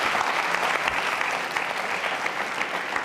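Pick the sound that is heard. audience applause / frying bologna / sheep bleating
audience applause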